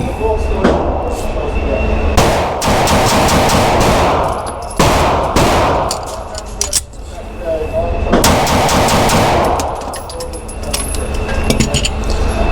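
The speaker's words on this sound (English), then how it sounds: "we're going to do 5 shots, reload, 5 more shots at 5 yards" A Rost Martin RM1C pistol fires loud, sharp shots at 5 yards in two rapid strings with a brief pause for a reload between them, and a voice talks over the shooting.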